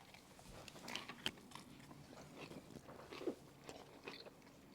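Close crunching bites and chewing of a Korean BBQ steak lettuce wrap with cucumber and kimchi, a few crisp snaps followed by soft, quiet chewing with no talk.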